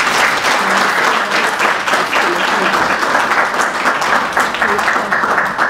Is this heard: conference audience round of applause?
yes